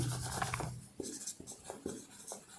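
Chalk or pen writing by hand in a maths classroom, a run of short scratchy strokes in uneven rhythm, close and fairly clear, with a brief low voice at the start.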